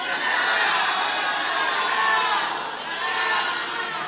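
Supporters of the first candidate pair at a regency public debate in Indragiri Hulu cheer and shout as a dense, steady crowd roar, loud and sustained throughout with no distinct claps standing out.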